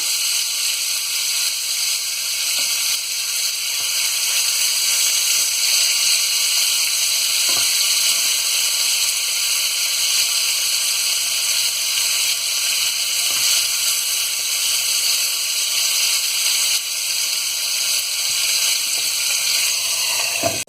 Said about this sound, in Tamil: ஃபிஷ் நல்லா ஃப்ரை ஆகிடுச்சு